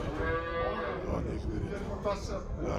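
A dairy cow at a cattle market lets out a drawn-out, loud moo close by, with the hum of a busy livestock market and faint voices around it.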